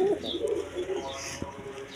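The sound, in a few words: Jharna Sharting pigeons cooing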